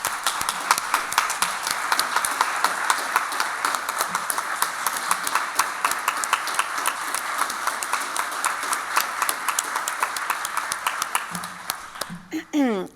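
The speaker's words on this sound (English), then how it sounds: "I'd love to give her a big round of applause." A large audience at a board meeting breaks into a sustained round of applause, dense steady clapping lasting over ten seconds before tapering off, with a voice starting up at the very end.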